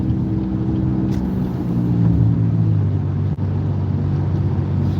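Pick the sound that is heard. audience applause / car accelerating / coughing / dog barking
car accelerating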